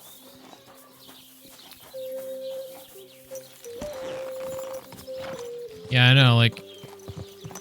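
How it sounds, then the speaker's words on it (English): Horse hooves trotting in the medieval video game Kingdom Come: Deliverance 2, a steady clip-clop beneath background music and people talking, with a brief louder horse call near the end. "like the horse, like the noises he makes trotting along"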